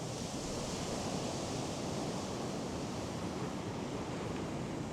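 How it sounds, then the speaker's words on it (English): Ocean waves breaking on the beach at Kilfarassy on the Copper Coast, a loud, continuous roar of surf that stays steady and close throughout, with no voices. "the waves that have just come in up here are just unbelievable"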